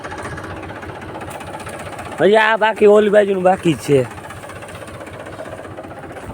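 A tractor engine drones steadily in the background during loading, a low constant rumble while someone talks loudly over it for a couple of seconds.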